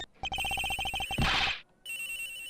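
A telephone in a video game rings with a rapid electronic trill, close and clear, in two short bursts separated by a brief gap.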